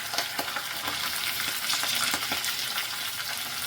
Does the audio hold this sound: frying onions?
yes